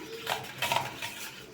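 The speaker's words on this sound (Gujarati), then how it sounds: "તેલ અને દહીંને મિક્સ કરી લઈશું" Soft clinks and scrapes of a spoon mixing oil and yogurt in a bowl, a few brief taps in quick succession, quiet and close.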